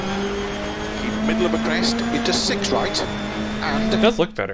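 A rally car engine in DiRT Rally 2.0 holds a steady, sustained drone during a wet, rainy stage, with brief tire and gravel noises. Someone talks over the engine throughout.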